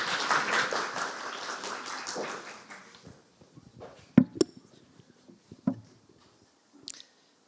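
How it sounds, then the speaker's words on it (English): Audience applause at a live game pitch event in Liberec, a dense burst of clapping that fades over about three seconds, followed by scattered faint taps and small handling noises in a quieter room. "Big applause."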